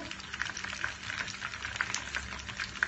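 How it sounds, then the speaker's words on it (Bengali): Chicken pieces frying in a pan of oil over low heat give a soft, steady sizzle dotted with small crackles and pops. The sound is continuous and fairly quiet. "আমরা একদম লো হিটে চিকেন ফ্রাইটা ভেজে নেব"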